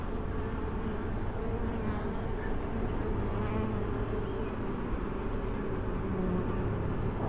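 Honeybees buzz inside an open hive during an inspection, a dense steady drone that stays close and loud throughout, with no talking.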